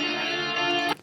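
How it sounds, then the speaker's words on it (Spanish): Slowed-down electric guitar solo played alone, a sustained bright note with rich overtones held for about a second before cutting off abruptly. "Ahí ya tenemos solo la guitarra que está haciendo el solo."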